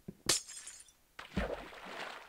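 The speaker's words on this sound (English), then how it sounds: "Please break the glass to begin." Glass breaking in the Minecraft video game, heard as a sharp shattering crack followed about a second later by a second breaking burst with clinking debris trailing off, close and fairly loud with no talk.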